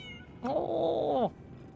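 A cat in the video game Lies of P: Overture gives a single clear, drawn-out meow of nearly a second, close and alone against quiet game ambience.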